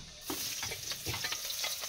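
Mung beans cook in a pan with onion and garlic, giving a close, steady frying sizzle broken by short stirring scrapes and soft clinks, with no speech.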